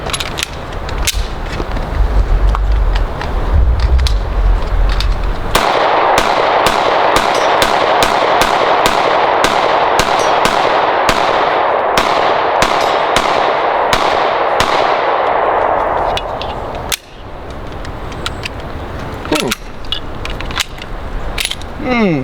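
Sig Sauer P320 and P365 pistols fire a rapid string of loud, sharp gunshots outdoors, about a dozen and a half cracks in quick succession over steady background noise, followed by a few more scattered shots.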